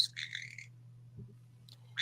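A pet bird squawks indoors in short bursts, a rough call near the start and another at the end, over a steady low hum, with no voices.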